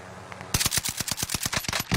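Rapid automatic gunfire from an online shooter game bursts in after a brief quiet start, about a dozen evenly spaced loud shots in quick succession, close and sharp.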